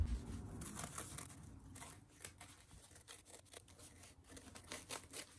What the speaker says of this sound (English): I'm going to use my fabric scissors and cut that out.